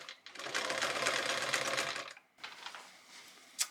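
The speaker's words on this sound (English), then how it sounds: "So I'm only sewing half on, and I'll just top stitch it on." Sewing machine top stitching a denim waistband, a close rapid mechanical chatter running for about two seconds, then a pause and a few softer stitching bursts and a small click.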